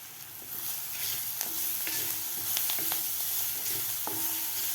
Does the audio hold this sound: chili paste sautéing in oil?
yes